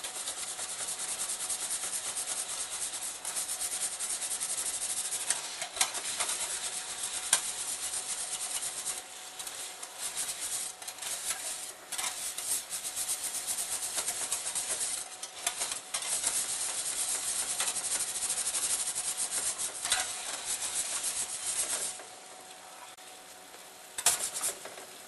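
A whisk scrapes steadily around a pan of roast lamb gravy, working out flour lumps in a continuous brisk rasp. The scraping runs close and unbroken for about twenty seconds, then eases off briefly near the end.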